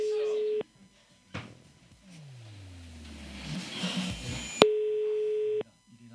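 A telephone ringback tone on an outgoing call: a long steady beep, a noisy gap with a falling sweep, then a second long beep before it cuts off.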